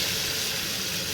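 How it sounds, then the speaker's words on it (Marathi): Tempering (phodni) for dal sizzling in hot oil, a brief close, dense hiss of spluttering spices with no voices. "चला तर आता डाळ घेतले फोडणी देते डाळीला बघा."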